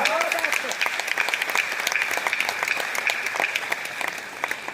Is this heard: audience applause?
yes